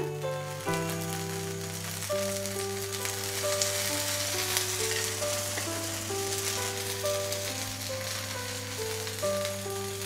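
An adai dosa cooks in oil on a pan over a low flame, its soft steady sizzle running under a prominent melodic instrumental music track that plays throughout.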